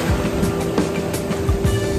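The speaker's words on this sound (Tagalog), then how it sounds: "Nalakas ng alon dito." Strong sea waves surge near a river mouth meeting the ocean, a loud, constant rushing wash of water with a low rumbling undertone and no speech over it.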